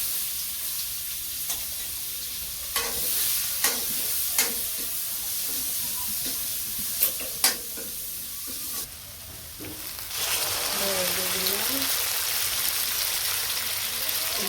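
Chopped onion frying in oil in a village kitchen makes a steady sizzle, with scattered stirring clicks and scrapes; the sizzle grows fuller and louder near the end, and no one speaks.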